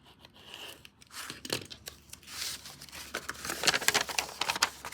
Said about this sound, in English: cut the fabric